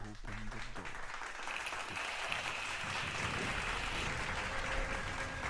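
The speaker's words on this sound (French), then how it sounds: "On applaudit bien fort ce jeu de mots." Audience applause at a live PC gaming showcase, a dense wash of clapping that rises and holds steady, fairly distant and moderately loud.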